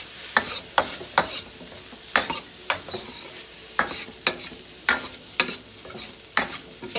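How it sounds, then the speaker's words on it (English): Shrimp and chicken fried rice being stirred in a hot pan, with repeated scraping strokes in an uneven rhythm over a soft, continuous sizzle, close and fairly loud, with no talking. "And we're going to stir it up."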